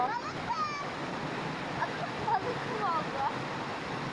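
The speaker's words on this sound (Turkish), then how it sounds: "Şuradan bir şelale suyumuz akıyor." Waterfall water pours steadily at a trout farm, a constant broadband rush close by, while children's voices and chatter run over it throughout.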